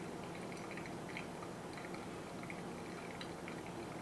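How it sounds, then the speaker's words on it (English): Hot water pouring from a height over coffee grounds in a Kalita pour-over filter, a steady soft splashing trickle that runs continuously and fairly quietly, with no one talking. "I'm pouring at a higher height here to increase agitation."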